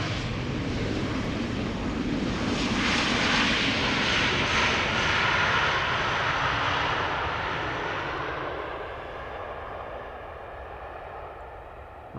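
An arriving airliner on approach to Amsterdam Schiphol's Polderbaan runway roars loud and broad overhead, building to a peak, then its engine noise fades as the aircraft passes on, with light wind rumble and no voices.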